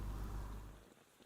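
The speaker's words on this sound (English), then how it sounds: "Oh, the rain sound changed." Faint rain ambience during a study session, a soft steady wash of falling rain with a low rumble that thins out toward the end.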